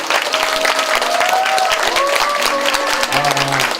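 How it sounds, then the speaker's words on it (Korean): An audience applauds the cast after a small-hall reading and music theatre performance in Seoul, a loud, steady round of clapping with faint voices and a brief cheer mixed in. "박수 좀 부탁드립니다"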